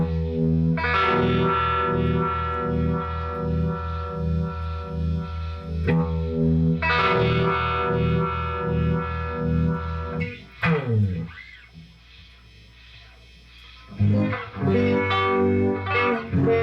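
An electric guitar runs through a Uni-Vibe clone pedal, playing distorted, throbbing chords with a pulsing, swirling wobble in several sustained phrases, loud and close, with a short quieter gap near the end.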